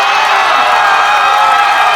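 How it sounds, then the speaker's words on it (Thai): A loud, steady roar of crowd cheering and shouting fills a Muay Thai fight arena, sustained and dense without a break. "ตอนนี้เสียงให้ไตตันหน่อย"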